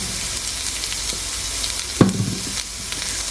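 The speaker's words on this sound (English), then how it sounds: "So while I'm cooking and roasting these poblanos and corn" Poblano peppers and corn frying and roasting in a pan, a steady close sizzle with a brief louder clatter of stirring partway through, no talk.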